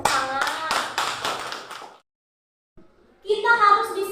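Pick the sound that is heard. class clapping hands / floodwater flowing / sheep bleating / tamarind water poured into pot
class clapping hands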